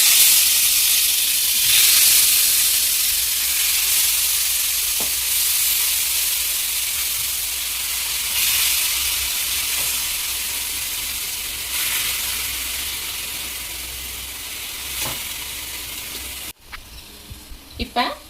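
Prawns frying in a little ghee in a pan on low heat for a ghee pepper prawn fry, a steady broadband hiss and sizzle running throughout, with a few soft clicks and a brief cutoff near the end.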